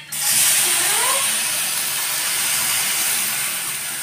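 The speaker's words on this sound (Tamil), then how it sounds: "இப்போ பால் ஊற்றிக்கோங்க." Milk poured into a hot pan of sautéed grated carrots for carrot halwa gives a sudden loud hiss and sizzle that settles into a steady, fizzing simmer, with no voices.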